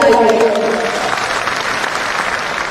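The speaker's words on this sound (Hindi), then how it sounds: "इनके लिए जोरदार ताली दीजिए।" Loud, steady applause from a large crowd at a political rally in Bihar, with a voice briefly audible at the start.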